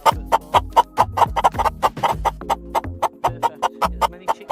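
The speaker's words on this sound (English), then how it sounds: "These little chickens eat so much." Backyard coop chickens cluck in a busy, steady run of short clucks, close and clear with low murmuring notes underneath and no talking.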